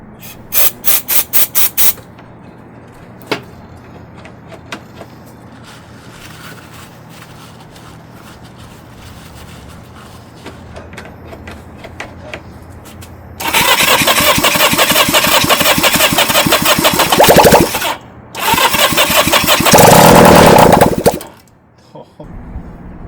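A 1963 Honda CA95 Benly motorcycle being restored, its ignition on and starting fluid applied, cranks and fires into two loud bursts of rough, revving engine running, cutting out between them, after quieter clicks and handling noises.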